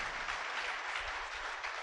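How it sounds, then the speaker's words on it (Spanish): A church congregation claps during a sermon, a steady, dense wash of hands that is fairly loud and continuous with no talk over it. "Dele un aplauso al Señor porque Dios le ama."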